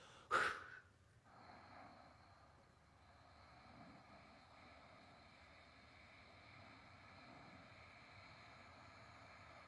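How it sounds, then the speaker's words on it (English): Slow breathing pushed through the throat close to a microphone: a sharp snort-like burst at the start, then a long, steady, low breathy rasp with no talking. "I'm going to make a noise with my throat so you can kind of hear how slow I'm breathing"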